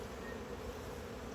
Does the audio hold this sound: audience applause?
no